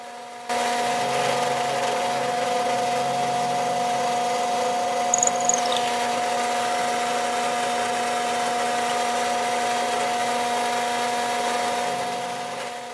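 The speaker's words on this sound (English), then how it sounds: "I countersink some of the holes so butyl tape can be used as a sealant." A drill countersinks mounting holes in a wooden sailboat spreader for a Catalina 30, a steady motor whir with a faint grinding edge held close and continuous for most of the clip before winding down.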